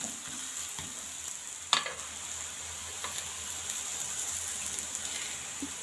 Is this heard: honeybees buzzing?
no